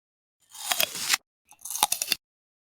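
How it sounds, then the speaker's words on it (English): Loud, close chewing and chomping in two crunchy bursts of about a second each, separated by a short pause, with no other sound around it. "A loud chewing sound."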